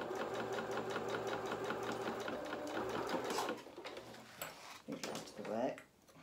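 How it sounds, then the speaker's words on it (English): A sewing machine zigzag stitches along a fabric edge in a fast, even mechanical chatter for about three seconds, then stops, leaving a few clicks and handling knocks. "I will just zigzag this edge and just neaten it."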